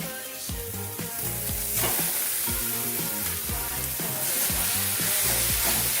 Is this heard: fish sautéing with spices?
yes